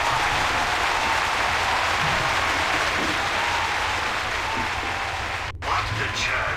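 Sustained crowd applause from a created audience in The Longest Journey video game, a dense continuous wash of clapping at even loudness that dips briefly near the end before resuming.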